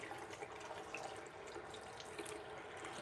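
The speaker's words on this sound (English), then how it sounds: "Then I wet my bowl a little bit." Water from a tap wetting a shaving bowl holding soap, a steady close trickle and splash with faint drips, alone without talk.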